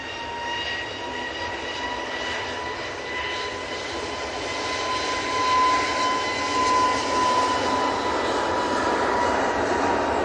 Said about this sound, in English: It's EasyJet's off to Dalaman.